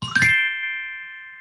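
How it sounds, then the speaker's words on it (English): A metallophone bar is struck once in a music therapy session, and the clear bright tone rings out, then slowly fades over more than a second with nothing else heard. "and then you heard the metallophone."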